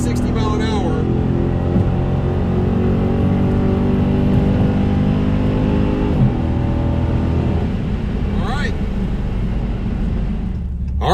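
A 2019 Dodge Challenger Scatpack accelerating hard from about 50-60 mph: a loud, sustained engine roar rising in pitch with gear changes, heard from inside the car.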